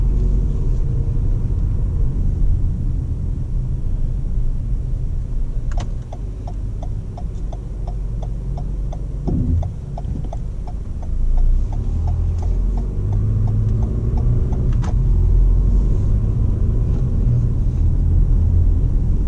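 A 2019 Toyota RAV4 XLE AWD on the move, with a steady low road and engine rumble running throughout and a regular ticking, like a turn signal, audible for several seconds midway.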